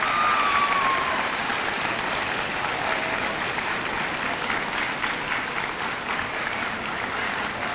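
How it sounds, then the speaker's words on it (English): A gymnasium crowd at a school Veterans Day event gives veterans a sustained, even round of applause from start to finish, with no voices standing out. "Let's give these veterans a round of applause."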